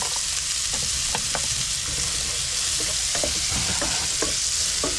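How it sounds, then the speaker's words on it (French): Two sliced onions frying in a pan on a camping-car stove, a steady close sizzle with occasional stirring scrapes and clicks running throughout, no voices. "Je vais y mettre mes 2 oignons."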